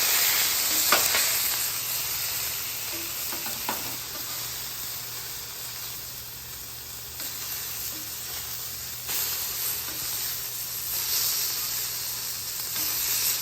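Beef sears on a hot griddle with a steady, close hiss of sizzling fat that swells and eases slightly, plus a few faint ticks and pops.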